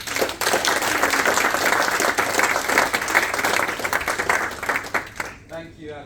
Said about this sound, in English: please give him a warm round of applause